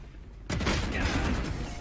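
Gunfire in the Valorant video game bursts in abruptly after a quiet moment, a dense loud volley of shots that keeps rattling to the end.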